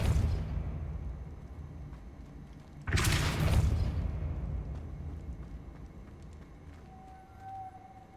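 A Depulso force-push spell in Hogwarts Legacy lands as one sudden loud whooshing boom. It fades slowly over a steady low game ambience, and a faint high tone rises near the end.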